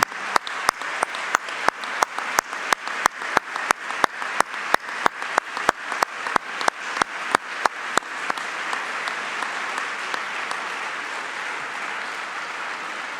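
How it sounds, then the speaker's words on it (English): An audience of guests at the F1 in Schools World Finals 2017 awards celebration applauds the student competitors, a run of sharp, evenly spaced claps that swells into continuous, dense clapping from the crowd. "Would all the competitors please stand and take a round of applause from all our guests this evening."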